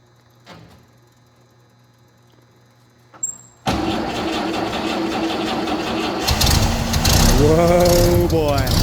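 Engine of a 70-year-old military truck cranking and catching, then settling into a loud, rough, continuous run that grows stronger, after a quiet start with faint knocks and clicks.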